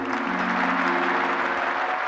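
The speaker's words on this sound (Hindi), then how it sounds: "सुरेश के लिए ताली ताली ताली" An audience applauds for Suresh with steady, dense clapping that fills the short stretch at an even level, with a low sustained hum running beneath it.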